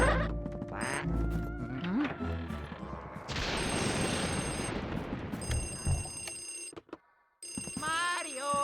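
A telephone rings in the haunted-house video game Luigi's Mansion, repeated electronic ringing tones amid game effects and music, with a voice speaking over parts of it.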